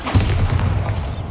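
Confringo and Bombarda spell explosions in Hogwarts Legacy, a short close thud with a low boom that rumbles away quickly.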